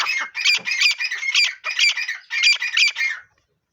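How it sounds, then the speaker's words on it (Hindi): Harsh, raspy partridge calls repeat in quick rhythmic bursts, several rounds in a row, loud and close, then fade to silence near the end. "तो जनाब ये तितर बोल रहे हैं"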